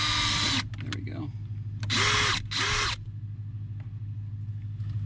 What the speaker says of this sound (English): I drilled my pilot hole.